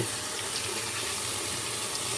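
Steady close rush of tap water filling a sink while dishes are being washed, loud and continuous with no talk over it.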